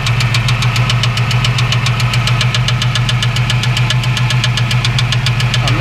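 A 1989 Mustang GT engine runs with a scraping flexplate, producing a rapid, steady metallic ticking and scraping rhythm over a low engine drone, close and loud throughout.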